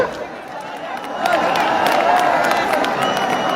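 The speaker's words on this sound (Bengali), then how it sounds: "কাটার জন্য একটু ধরে হাততালি" Crowd applause and cheering rise at a local football match as the goalkeeper who scored and was named best player receives an award, a steady mass of clapping with murmuring voices, swelling after the first second and holding loud.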